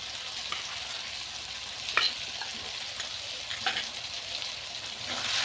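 A paste of ginger, cumin and chili sizzles steadily in a pan with potatoes and tomatoes for a rohu fish curry, a continuous hiss broken by a few brief clinks and scrapes of stirring.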